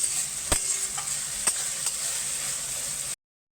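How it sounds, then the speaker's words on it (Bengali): Onions frying in a pan for a chicken curry keep up a close, steady sizzle while a spatula stirs them, giving a couple of sharp taps against the pan before the sound cuts to silence. "একটু ভালো করে নাড়া দিতে হবে,"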